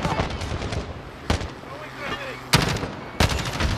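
Enemy gunfire aimed at the player in Modern Warfare, a sharp burst of automatic fire up front, then several loud separate shots and short bursts, close by, with a voice talking in between.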